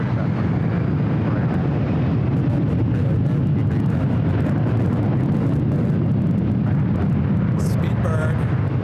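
Air France airliner taking off from LAX, a loud, steady roar of jet engines filling the whole stretch with a broad rumble that holds strong throughout.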